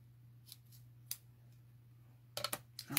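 Scissors snipping the tails of a ribbon bow for a Christmas paper craft, a few quiet single cuts followed by a louder cluster of quick snips near the end, over a steady low hum.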